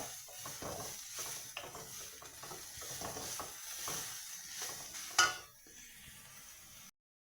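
Banana stem curry is stirred in a pan, with soft repeated scraping strokes over a low sizzle and one sharper clack near the end before the sound stops, no voices.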